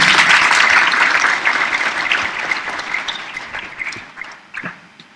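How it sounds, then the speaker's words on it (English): Audience applause at a Model UN opening ceremony in Tanzania rings out loud and dense at first, then gradually thins and fades over about five seconds, with scattered final claps. "Please give him a round of applause."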